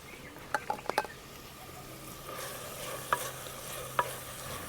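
Chopped green garlic goes into a frying pan for an eggplant dish, with a few sharp clinks and scrapes of a spoon over a quiet, steady sizzle.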